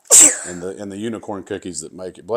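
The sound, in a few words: child sneezing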